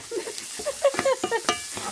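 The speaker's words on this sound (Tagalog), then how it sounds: "Ilagay ang sibuyas. Paghalo-haloin ulit." Onions stirred and sautéed in a pan for a home-cooked egg dish, with a run of soft scraping stirs and light sizzling pulses, close and fairly quiet, no talk.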